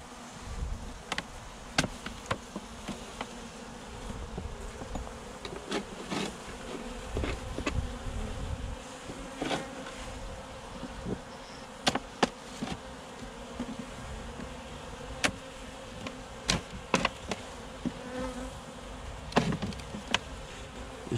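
A weak honeybee colony buzzes steadily during a hive inspection, a continuous insect drone broken by scattered sharp taps and knocks, with no voices.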